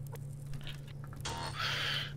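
A chicken clucks in the survival game Subsistence, a few scratchy clucks and squawks over a steady low hum, growing busier in the second half.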